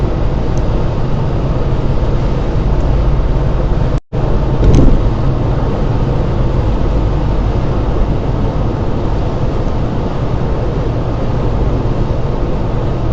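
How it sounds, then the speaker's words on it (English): Third-generation Toyota Camry with rod knock driven on the road, a loud constant engine and road roar heard from inside the cabin with a sudden brief cutout partway through. "it's definitely surging and struggling a little bit"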